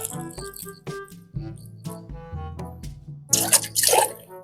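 Water splashes and drips onto soil while seedlings are watered, with irregular wet plops and trickles that swell into a fuller, gushing pour toward the end.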